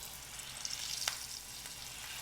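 Quiet, steady sizzling of pork chops frying in peanut oil in a fryer, with a few brief crackles and pops, no voices.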